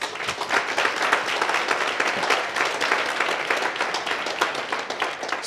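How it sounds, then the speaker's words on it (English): An audience at a small-business event applauds with dense, steady clapping that stays loud and even throughout, with no voices over it. "can I please ask that we give them a round of applause?"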